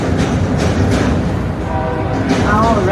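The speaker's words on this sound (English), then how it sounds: "All right, there goes the train." A train passes in downtown Chicago, a loud steady rolling rumble with rhythmic clatter and a few sharper squeals, close and filling the whole moment while someone speaks over it.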